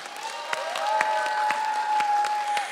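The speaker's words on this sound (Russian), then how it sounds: "спасибо вам огромное за ваши теплые аплодисменты" A concert audience applauds a folk ensemble, steady moderate clapping from a hall crowd with a sustained tone ringing faintly beneath it.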